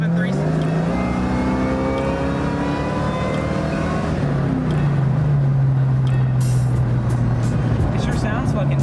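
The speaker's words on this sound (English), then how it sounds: "It sure sounds fucking badass." A 1999 Mustang Saleen S281 engine revs and accelerates loudly, its pitch climbing steadily, with a deep rumble close by and a brief hiss near the end.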